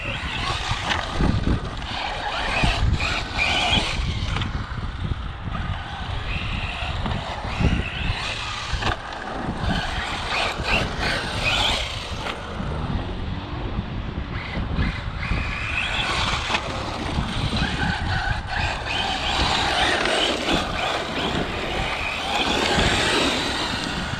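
A tuned Traxxas Slash 4X4 MMX6S RC car on its first run, driving and drifting with a steady, rough motor whine and tire scrub that runs loud and continuous throughout, with brief surges as it slides through turns.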